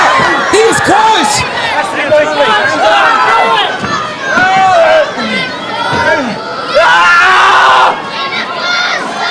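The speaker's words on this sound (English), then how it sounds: "you can hear him just screaming." A wrestler yells and screams over a loud, excited crowd during a cage match, his cries rising and falling amid shouting voices throughout.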